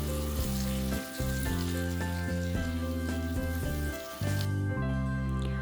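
Masala spices sizzle and fry steadily in a pan while cooking for Jammu-style rajma made without garlic or onion, a continuous close crackle that sits beneath loud, steady, tonal background music.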